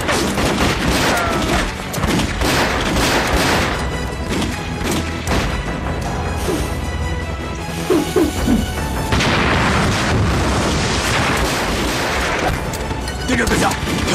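Heavy gunfire and explosions in a Chinese war film about fighting Japanese soldiers, loud sustained volleys with booming blasts and crashes throughout, with shouted voices under the battle noise.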